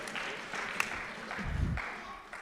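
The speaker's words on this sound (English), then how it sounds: "Let's give him a round of applause." Steady applause from an audience, many hands clapping at once, moderately loud and continuous throughout.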